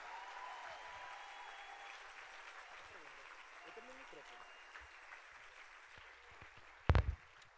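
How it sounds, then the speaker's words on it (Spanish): A congregation applauding during a worship concert: moderate, diffuse clapping from a crowd that holds steady and then fades, with a brief loud knock near the end. "Dale un aplauso al Espíritu Santo de Dios"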